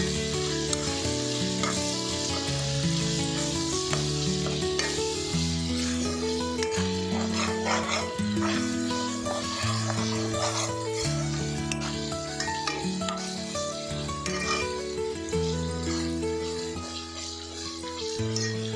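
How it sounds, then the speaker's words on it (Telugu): Ginger garlic paste frying and being stirred in a pan for a Kashmiri chicken masala gravy, a steady sizzle that runs throughout beneath continuous background music. "అల్లం వెల్లుల్లి పేస్ట్ బాగా పచ్చివాసన పోయే వరకు బాగా ఫ్రై చేద్దాము"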